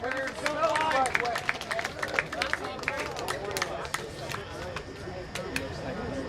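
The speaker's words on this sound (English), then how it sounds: "Give them a round of applause, guys." A high school sober grad party crowd applauds a contestant on stage, with dense, lively clapping mixed with cheering and chatter, loud and close.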